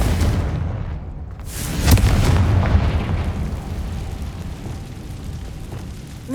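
A Confringo fire spell bursts with a loud explosive boom in the Hogwarts Legacy video game, its broadband blast peaking sharply and then settling into a rumbling, crackling tail that fades slowly.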